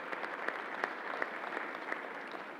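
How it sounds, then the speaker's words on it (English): A crowd claps steadily in a continuous burst of applause at a government announcement event, with a few sharper individual claps standing out. "Let's give another round of applause to the National Guard and to Alan Steele"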